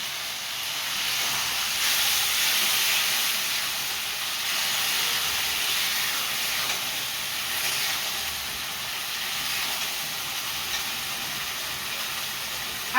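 Water hits a hot pan of Kashmiri dum aloo with potatoes, chilli and poppy seeds, giving a broad, steady steaming hiss and sizzle that holds near and fairly loud throughout, with no talk.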